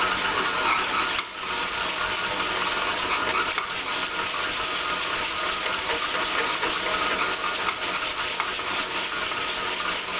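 Stand mixer kneading naan dough with a dough hook, a continuous loud motor whir with a faint steady churning under it throughout.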